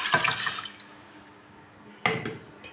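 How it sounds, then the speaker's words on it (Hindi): Water is poured into a pot for a gheeya (bottle gourd) chicken curry, heard as two short, close splashing gushes separated by a pause, with no speech. "अब हम इसमें पानी डाल देंगे"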